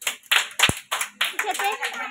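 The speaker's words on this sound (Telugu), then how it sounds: "ఈసారి క్లాప్స్ కొట్టండి." Young Anganwadi children clapping their hands in a rhythmic series of sharp claps, close by, mixed with children's voices chanting along.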